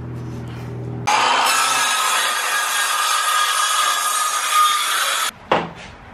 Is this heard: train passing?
no